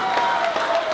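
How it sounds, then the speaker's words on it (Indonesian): A crowd claps at a political event in Papua where customary leaders show support. The brief, steady applause is heard over a constant tone from the sound system. "Tepuk tangan dulu kita."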